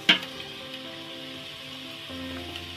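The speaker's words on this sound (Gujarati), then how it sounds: "કોબીને સાતરતા પણ એક મિનિટ જેવો સમય થઈ ગયો છે" Shredded cabbage sautéing in a pan for street-food moong pulao, starting with a sharp clatter and then a soft steady sizzle close by, with no talking.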